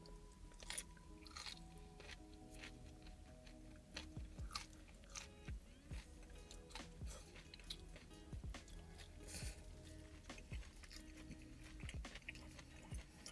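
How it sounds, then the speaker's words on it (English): Crunchy grilled broccolini is bitten and chewed close up, with a rapid series of crisp crunches and clicks that continue steadily for several seconds, with no talking. "It's still crunchy and you can hear that right off the bat once you bite into it."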